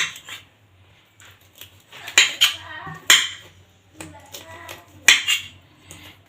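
Drumstick stalks chopped into small pieces indoors, giving sharp irregular snaps and crisp cuts with a few clinks of a knife, close and moderately loud.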